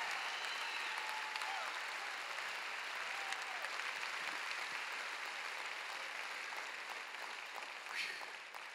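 A church congregation claps along during a healing conference service, a faint, distant wash of steady clapping that continues evenly throughout with piano cues and no clear voices.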